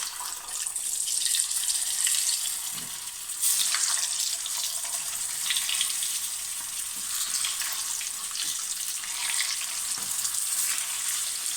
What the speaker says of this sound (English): Into the oil, and we're going to fry them off